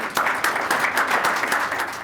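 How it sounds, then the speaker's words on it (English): Audience applause in a Wayne County courtroom gathering, steady dense clapping from many hands filling the room for about two seconds, fairly close and even in level. "Give yourselves a round of applause."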